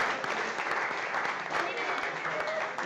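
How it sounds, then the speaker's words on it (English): An audience claps for the Tampa Bay Times at a chef showdown event, a steady dense round of applause lasting a few seconds with some voices mixed in. "Big round of applause for Tampa Bay Times."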